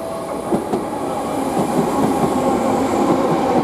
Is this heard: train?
yes